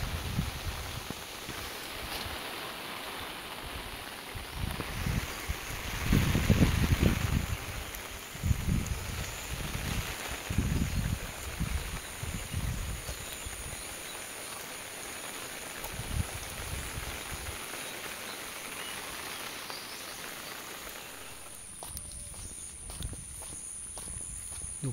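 Heavy monsoon rain in the Konkan countryside, a steady broadband wash of downpour with irregular louder patter and thumps, continuous throughout and easing slightly near the end.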